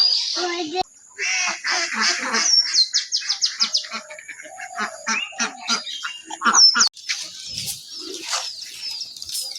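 Many pigeons chirp and coo together nearby as they gather to feed, with wing flutters and bustling activity, a busy flock close by.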